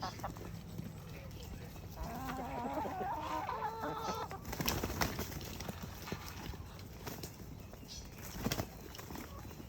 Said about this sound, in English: Quite a few different varieties of chickens, the Aracanas, the Rhode Island Reds,